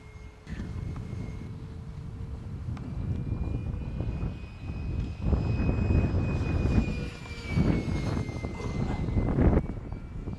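A Blitzrcworks Lockheed F-104 Starfighter electric ducted-fan RC jet on a test flight at a model flying club, a steady whine rising and swelling as it passes, mixed with wind buffeting on the microphone.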